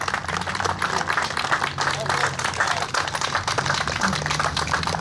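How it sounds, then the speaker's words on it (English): A crowd applauds the American Legion at an outdoor car show, with dense, continuous clapping throughout and voices mixed into the noise. "Ladies and gentlemen, a big round of applause for our American Legion."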